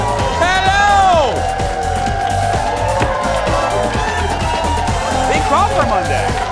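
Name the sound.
audience crowd cheering and whooping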